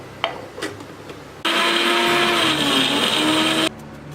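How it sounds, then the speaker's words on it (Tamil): A mixer grinder jar grinds coconut pieces for coconut milk, starting abruptly after a few light clicks and handling sounds, a loud steady high-pitched whir for about two seconds before cutting off sharply. "இதை வந்து ஜாரில் போட்டு நல்லா அரைச்சி ஒரு 1/4 கப் அளவு வந்து நமக்கு தேங்காய் பால் வர அளவுக்கு நல்லா"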